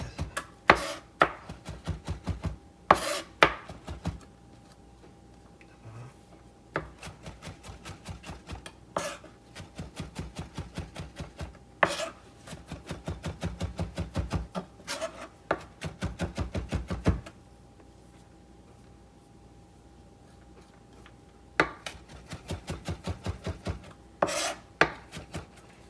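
Chef's knife rock-chopping garlic cloves on a cutting board, a steady run of quick close knocks in bursts separated by short pauses.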